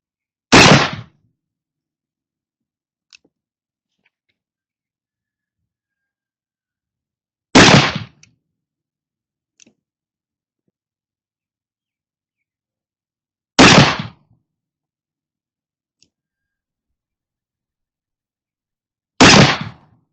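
Four sharp, loud muzzleloader shots fired with 28 grains of 3F Swiss black powder, evenly spaced about six seconds apart outdoors, each a short blast with brief decay, separated by near silence and a few faint clicks.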